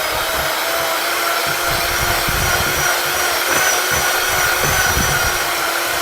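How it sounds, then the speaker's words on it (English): An electric hand mixer beats a lumpy cinnamon bun mixture until fluffy, a steady loud motor whine running unbroken throughout with faint bowl knocks underneath. "So I'm going to mix this until all the lumps are out,"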